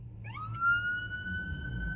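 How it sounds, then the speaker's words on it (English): An ambulance siren sounds from a passing vehicle, its steady high wail rising in pitch and holding loud and clear over low road rumble for about two seconds. "Ambulance."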